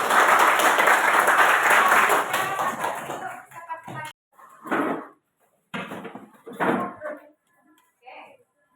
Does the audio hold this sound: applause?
yes